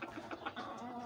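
Chickens on a farm clucking up close, several short clucks in quick succession followed by a drawn-out murmuring cluck, with no talk.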